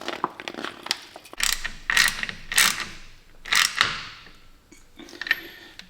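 A torque wrench ratchets in short clicking bursts as bolts on a powder-coated PPE rear differential cover are checked, each run of pawl clicks close and loud with brief pauses and metallic handling sounds between.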